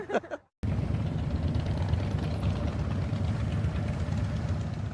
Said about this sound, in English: More than 20 motorcyclists revved into motion in exhibit at the George Washington Carver Museum.